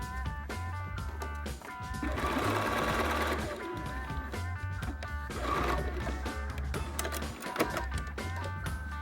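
A sewing machine stitching a sleeve tab down on a shirt seam during a dress refashion, running in a close, continuous rapid mechanical whir with steady needle rhythm and slight speed changes.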